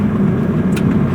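Hyundai Starex MPV engine pulling under acceleration, a steady low road drone heard from close by inside the vehicle, with no one talking.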